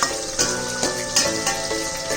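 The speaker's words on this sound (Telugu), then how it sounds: "నేను ఆయిల్ పోసిన పద్ధతి, వేసినటువంటి పోపు గింజలు, ఉల్లిపాయలు ఇవన్నీ చక్కగా వేగుతున్నాయండి" Onions and tempering seeds sizzle steadily in hot oil in a pan, a continuous close crackle with soft periodic swells as the pan is stirred.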